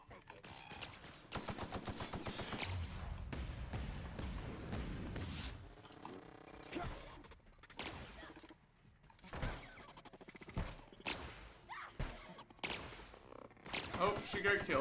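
Weapons fire against robots in The Outer Worlds, with rapid rattling shots and sharp individual cracks. Loud sustained firing in the first seconds gives way to scattered bursts, and a voice speaks intermittently between them.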